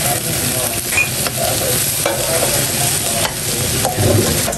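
Bitter gourd (ampalaya) sautéing in a pan makes a loud, continuous sizzle, with scraping and stirring noises coming through now and then.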